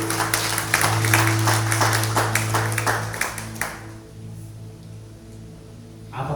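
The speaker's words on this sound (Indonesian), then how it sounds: "Tepuk tangan bagi Tuhan." A church congregation at a GBI Rock Galang service claps together in a dense, steady burst of applause that fills the room for several seconds, then cuts off and leaves a quiet hall.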